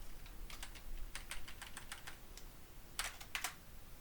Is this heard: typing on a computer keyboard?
yes